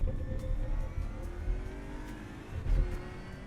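Racing car engine in a driving game played on a Cammus C5 wheel: a continuous, fairly loud rising and falling engine whine with revving swells and tire rumble, no voices.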